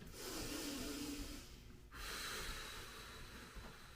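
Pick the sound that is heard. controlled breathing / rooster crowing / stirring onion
controlled breathing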